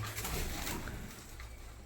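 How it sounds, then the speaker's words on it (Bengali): Pet pigeons coo softly in a room, a low steady burble close by that fades slightly toward the end, with no talking. "চলো চলো আমার পায়রাগুলো এই দেখো"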